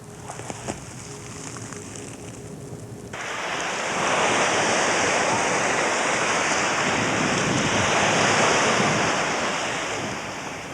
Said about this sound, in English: If you've ever listened to the waves washing on a shore or to the wind whistling through the trees